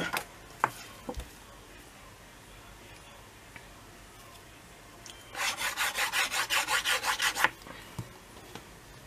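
A hand file rasps along a paper edge for a scrapbook album in a quick run of about a dozen even strokes, preceded and followed by light handling taps, close and fairly soft.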